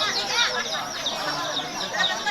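Chicken clucking in quick, repeated bursts, fairly close and steady over a dense background, with people talking faintly nearby.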